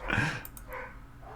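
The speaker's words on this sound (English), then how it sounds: "you could probably hear my dogs in the background" Household dogs bark in the background, with a few quick yips and barks in a short, fairly faint burst.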